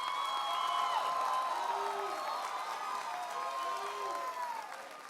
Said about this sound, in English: can we give a round of applause to your valedictorian and your salutatorian?